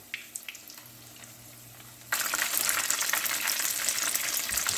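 Battered haddock or cod frying in hot oil at about 365 degrees, a loud steady crackling sizzle that starts abruptly partway through after a quiet stretch with a few faint clicks, then continues dense and constant with no talk.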